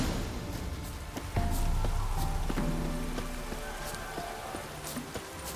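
Rain falls in The Witcher 3 as a steady patter over the game's ambient sound, with a few scattered brighter taps and hoof-like knocks, close and even, with no voices.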